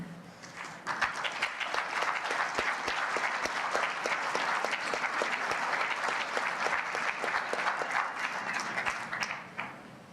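A keynote audience at an environmental forum breaks into sustained applause: a steady, full round of many hands clapping that holds at even strength for about nine seconds before dropping off.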